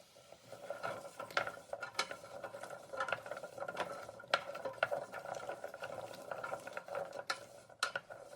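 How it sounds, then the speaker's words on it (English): A butternut squash mixture with cumin and curry powder sautés in a pot, heard as quiet, soft sizzling with intermittent scraping stirs and light clinks of a utensil against the pot, no talking. "The butternut squash mixture has had a chance to saute for a bit"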